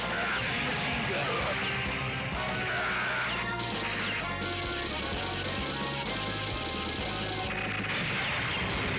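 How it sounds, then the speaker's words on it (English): Rapid heavy machine gun bursts from the Neo Geo arcade game Metal Slug ring out loud and dense, layered over pounding music and crashing explosions throughout. "Heavy machine gun."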